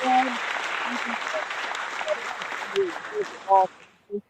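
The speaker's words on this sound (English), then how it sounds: "I just got some clapping. Everybody deserves clapping." Canned clapping sound effect dropped into a sports news show, a burst of applause running a few seconds over a music bed, with some talk and tonal blips near the end.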